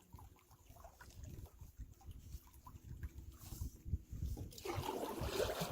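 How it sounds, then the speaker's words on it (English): A low engine rumble from a boat passing on the water, heard from a canoe on an island trip, with soft lapping and splashing that grows brighter near the end. "Oh, here's another boat."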